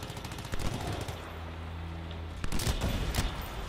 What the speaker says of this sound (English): I don't know what that is, but I shot it.